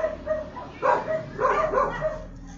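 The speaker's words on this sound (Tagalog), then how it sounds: "pasensya na po sa background ko dahil merong aso dito sa paligid" A dog barks repeatedly close by in a residential neighborhood, several sharp yips and bow-wows with short gaps, loud and clear with no talk over it.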